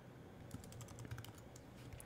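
Quiet, steady typing on a computer keyboard, a quick run of soft key taps lasting about two seconds.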